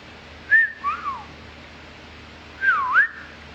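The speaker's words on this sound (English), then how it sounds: "Do you know how to whistle?" A person whistles two short, clear tonal phrases. Each phrase has a couple of rising and falling notes, separated by a quiet pause, and nothing else is heard behind them.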